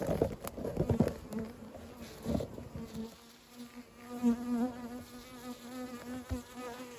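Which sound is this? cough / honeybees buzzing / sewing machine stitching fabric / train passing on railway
honeybees buzzing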